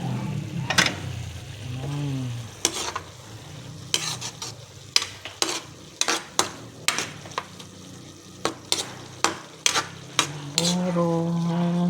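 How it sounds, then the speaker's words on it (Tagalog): A spoon scrapes and clacks against a pan as chili buro is stirred, giving a series of sharp, irregular knocks over a soft background sizzle. Brief tonal squeaks occur near the start and the end. "haluin natin muna"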